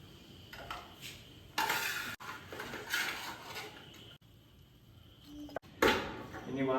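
Fried chicken lifted out and moved into a bowl, light clinks and scrapes of utensils against metal and dishware in short bursts, fairly quiet, with a voice talking in between.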